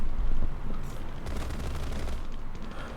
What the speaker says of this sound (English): Fire some shots.